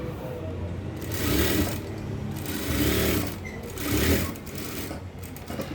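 A sewing machine stitches across fabric in close, loud rapid bursts, three longer runs separated by short pauses, with no voices.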